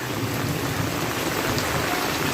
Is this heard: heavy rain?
yes